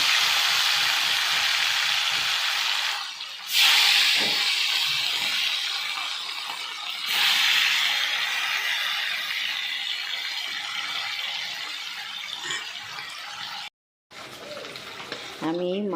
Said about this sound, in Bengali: আমি কিন্তু এই একই তেলে মাছগুলো ভাজা করে নিচ্ছি।